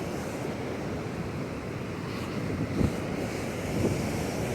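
Pacific Ocean surf rolling onto a narrow beach at Rosa, a steady wash of broken waves with wind buffeting the microphone and two slightly louder surges near the end.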